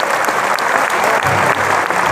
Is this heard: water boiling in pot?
no